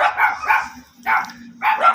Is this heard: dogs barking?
yes